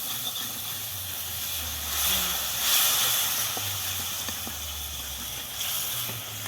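Ginger and garlic paste sizzles and hisses in a pan for aloo kurma, giving a continuous frying noise that swells midway, with a few soft taps as a spoon stirs.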